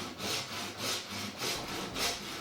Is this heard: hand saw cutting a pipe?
yes